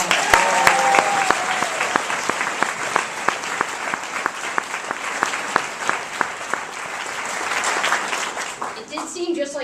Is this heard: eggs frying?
no